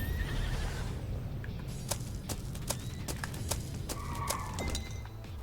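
A horse neighs and its hooves clop in a video game, with sharp clinks and crashes scattered over a constant low rumble of game noise at a moderate level.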